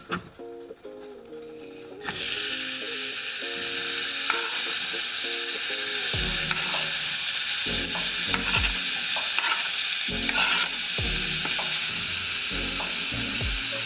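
Fries hit a hot pan with salt and sugar, a quiet clatter giving way to a loud, steady sizzle with repeated stirring scrapes and clanks throughout.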